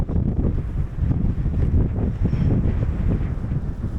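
Strong winter wind at a pond buffeting the microphone in steady, loud low rumbling gusts, with faint water sounds beneath and no voices.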